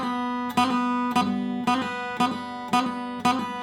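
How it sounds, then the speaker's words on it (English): A flatpicked acoustic guitar repeats a quick ornamental figure from the tune Boys of Ballycastle about six times, each bright attack followed by a rapid open-string hammer-on and pull-off, ringing clearly and evenly. "So it's a really quick hammer and pull off there."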